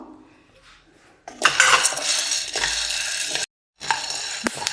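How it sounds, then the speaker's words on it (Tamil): Soybeans dry roast in a pan for a health mix, with rattling, scraping stirs of a spoon against the metal in loud bursts, a brief pause, then more clattering stirring. "நெக்ஸ்ட்டு நம்ம சோயாபீன் வறுக்கிறோம்"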